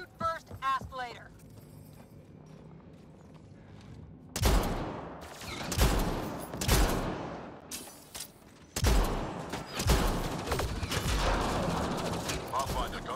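Gunfire erupts in the Mass Effect Andromeda video game, heavy rapid bursts and shots starting a few seconds in after a quieter stretch with a brief voice, continuing loud and dense through the rest under game ambience.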